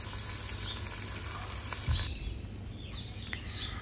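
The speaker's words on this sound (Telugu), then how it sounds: "మనం దోరగా ఇవి వేయించుకుందాము. నెయ్యి భలే వాసన వస్తుందండి." Onions frying in ghee in a village kitchen while coconut pulao is made, heard as a soft, low sizzle with a few stirring scrapes and faint background chirps, fairly quiet and without talk.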